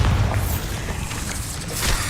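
Bombarda blasting spell going off in Hogwarts Legacy, a dense booming roar of explosion noise that sustains loudly and evenly throughout with no voices heard.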